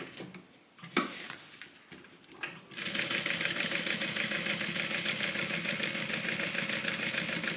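A sewing machine runs steadily, stitching through tape on a Soraya divider bag; after a few quiet handling knocks the motor starts and hums with a fast, even mechanical chatter close by.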